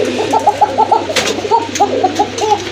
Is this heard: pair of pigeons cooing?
yes